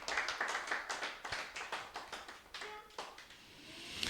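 Congregation clapping during a church service, a rhythmic steady applause of many hands that fades toward the end.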